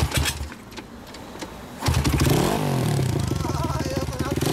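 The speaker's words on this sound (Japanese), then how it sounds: "あのデートナーからエンジン音聞かせてもらえますか" Honda Monkey 108cc with a Daytona exhaust muffler starts up after a brief quiet stretch, then idles loudly nearby with a steady popping beat and a short rev, while people talk over it.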